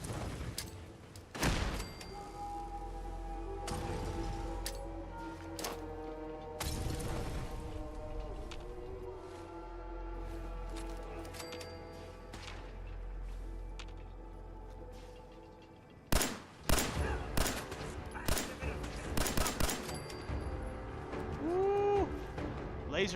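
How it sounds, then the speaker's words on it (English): Machine gun fire in the video game Fallout 4, heard as repeated sharp bursts of shots over a droning game soundscape, with a dense cluster of loud rapid reports near the end. "Okay, they got a machine gun there."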